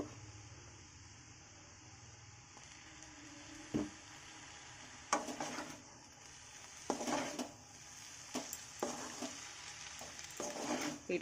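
Vegetable chowmein being stirred in a frying pan after soy sauce is added, with a steady soft sizzle under repeated scraping, clattering stirs that grow busier toward the end.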